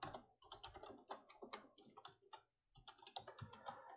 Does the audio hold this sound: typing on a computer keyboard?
yes